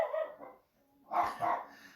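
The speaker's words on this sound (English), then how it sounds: "He's probably barking at a dog on the TV in the next room." A dog barks indoors from somewhere nearby, a few sharp barks at the start, a short pause, then two louder barks in quick succession, heard alone without talk.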